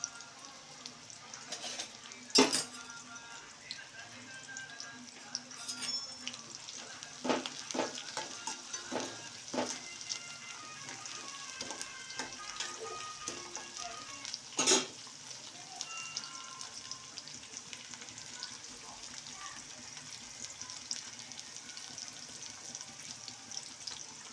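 Green chilies and curry leaves frying in hot oil, a steady sizzle with stirring clinks and a few sharp spatula knocks against the pan, close and continuous throughout.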